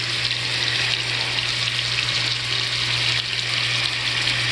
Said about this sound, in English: So we're going to sizzle this